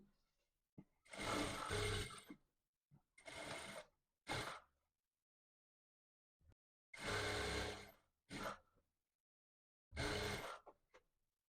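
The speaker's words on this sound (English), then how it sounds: "So I'll be matching up along the waist while sewing." A sewing machine stitches a garment waistband in several short runs of about a second each, separated by pauses, with no talking.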